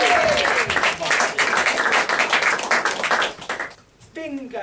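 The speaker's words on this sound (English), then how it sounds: "Right, guys, start clapping and cheering for me now." An arts event audience claps and cheers for a performer coming on stage, loud sustained applause with sharp individual claps that thins out near the end as a voice resumes.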